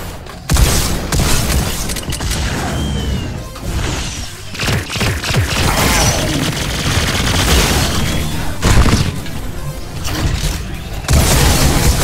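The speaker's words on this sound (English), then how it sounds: "We'll use the energy rifle." Energy rifle fire in the VR shooter Robo Recall: loud, repeated blasts and booming impacts crowd together in rapid bursts, broken by brief lulls, with heavy crashing game action underneath.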